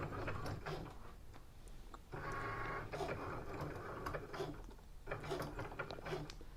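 Cricut cutting machine slicing vinyl, a quiet mechanical whirring with repeated bursts of carriage motion and short pauses between strokes.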